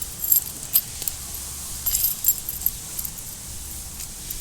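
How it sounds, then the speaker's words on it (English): A ring of two different keys, one square deadbolt key and one regular lock key, jangles at a rear door lock in close, bright clinking bursts over a low background hum. "They have two different keys."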